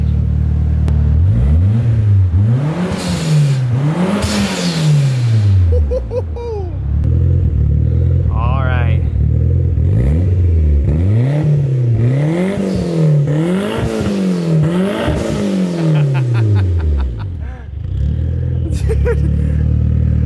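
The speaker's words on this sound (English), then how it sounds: "Now we can actually give it some revs." A Mitsubishi Evo III with an HKS carbon fiber exhaust revs up and down repeatedly, loud and close, with a rhythmic series of rising and falling sweeps, and brief words are spoken between the revs.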